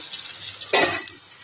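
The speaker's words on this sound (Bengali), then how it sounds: "আর এদিকে চলছে আমার পটল ভাজা পটলগুলো একটু ভেজে নেবো" Slices of pointed gourd (potol) frying in oil, a steady close sizzle with a brief louder stir of the pan in the middle, no talk.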